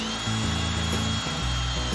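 A power drill with a bit whirs steadily while boring in a tight space inside a small kitchen utensil cabinet, its pitch dipping briefly a few times under load.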